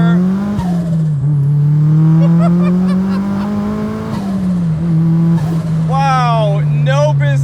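A turbocharged Mazda Miata tuned on E85, making about 470 wheel horsepower, drones loud and close with a steady engine note held at the rev limiter, its pitch wavering slightly, while a voice speaks over it.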